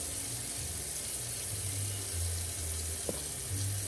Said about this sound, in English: So let me wash my cup out